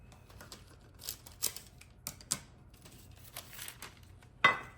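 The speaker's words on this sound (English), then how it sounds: "I crinkle it up like this" A sheet being crinkled up before lining an 8x8 baking dish, with scattered crisp rustles and a few sharper crackles at irregular moments, close and fairly quiet.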